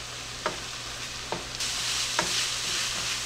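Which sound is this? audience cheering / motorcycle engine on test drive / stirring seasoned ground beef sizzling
stirring seasoned ground beef sizzling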